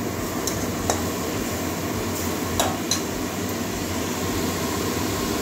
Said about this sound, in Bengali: মশলাটা একটু ভালো করে কষিয়ে নেব, মশলা থেকে তেল ছাড়া অবধি কষাবো।